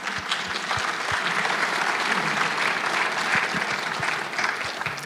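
A room full of people at a sports awards ceremony claps steadily, with dense, sustained applause throughout and a few louder claps standing out near the front.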